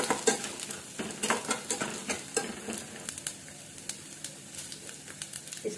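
Ginger roasts in a pan with a gentle sizzle while a spoon stirs it in quick, regular scraping strokes, close and moderately quiet.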